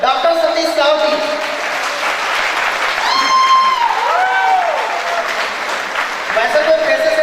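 Applause from a crowd at a Chhattisgarhi film's muhurat shot ceremony, loud and continuous, with music tones and voices mixed in under the clapping.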